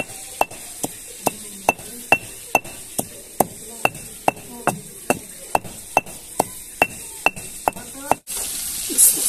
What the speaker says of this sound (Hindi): यहाँ पे पुदीना और सब्ज मिर्चे कूट रही है रायता बनाने के लिए